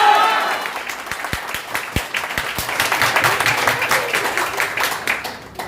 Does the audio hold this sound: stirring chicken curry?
no